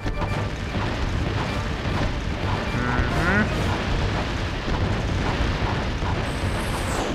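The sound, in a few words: bomb glove explosions in the video game Ratchet & Clank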